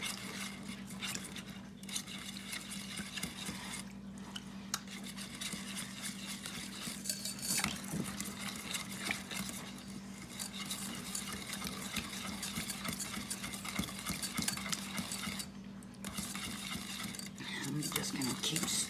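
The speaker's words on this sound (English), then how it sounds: "I'm just gonna keep stirring this around." A huge whisk stirs a savory chicken, mushroom and spinach dish in a pot, making continuous scraping and rattling with low sizzling underneath and brief pauses between strokes.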